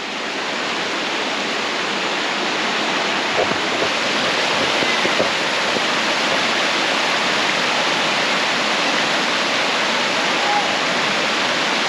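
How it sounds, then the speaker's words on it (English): Falls on the North Johnson River at Prince's Crossing, seen from a bridge above a swimming hole, pour in a loud, steady, broadband rush of water that holds constant throughout without pause. "have a look over from the top of the bridge here, down at the falls and into the swimming pool area"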